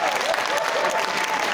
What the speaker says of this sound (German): gib nochmal einen großen Applaus für die beiden